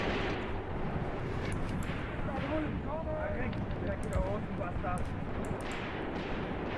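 Tank and infantry gunfire in Graviteam Tactics: Mius Front, a steady rumbling wash of distant shots and bursts with a few sharper cracks, and a voice talking over it.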